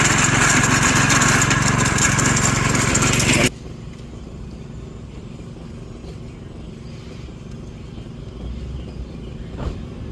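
A tiller works soil to prepare ground for new grass, first with a loud, close engine roar for about three seconds, then a lower, steady rumble as it moves away or throttles down.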